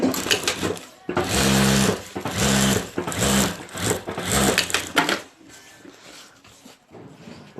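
Sewing machine stitching a handbag, running in several close, loud bursts of steady whirring and clatter over a few seconds before falling quieter.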